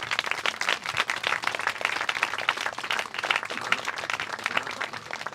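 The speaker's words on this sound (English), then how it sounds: "Give a big applause." An audience at an assembly closing ceremony held at a historic site breaks into sustained applause. Dense, even clapping from many people carries on steadily throughout.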